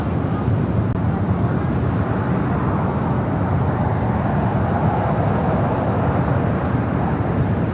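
A Boeing Dreamliner jet airliner at LAX gives off a loud, steady broadband roar that holds without a break through the whole stretch, with no voices over it.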